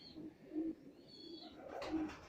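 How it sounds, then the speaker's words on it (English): Pigeons coo softly in a loft or basket during a pigeon-racing check, several low rounded calls repeating at a moderate distance with no voices over them. "Pleased with every pigeon that's gone in the box"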